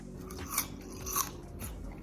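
Crisp bites into a sliced pear give two sharp crunches, close and fairly quiet, followed by softer chewing.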